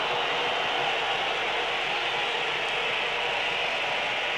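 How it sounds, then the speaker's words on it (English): A small crowd at a 1990 World Cup qualifier football match between Poland and England whistles in a steady, dense, hissing wash of sound that holds unbroken throughout, with no individual voice standing out. "That's the whistles, and the crowd isn't large, but have certainly made themselves heard."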